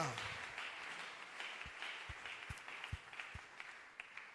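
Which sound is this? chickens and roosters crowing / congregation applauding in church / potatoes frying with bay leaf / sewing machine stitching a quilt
congregation applauding in church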